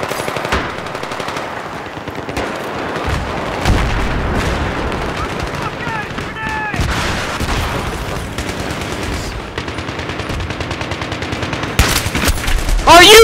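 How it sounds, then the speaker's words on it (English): Rapid bursts of gunfire from a shotgun in a Team Fortress–style multiplayer video game, loud repeated blasts in clusters with a voice talking between shots. "You pump someone full of fucking buckshot"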